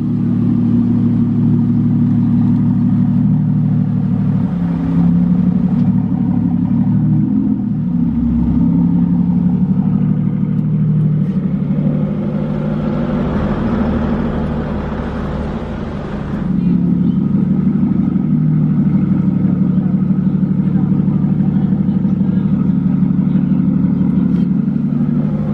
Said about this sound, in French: enfin le départ de la Zagato